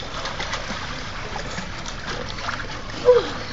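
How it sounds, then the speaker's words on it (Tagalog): A child splashes in a pool at an outdoor birthday party, with scattered splashes and a sharper splash near the end over steady background noise and faint voices. "Swim, swim ka, Gabi."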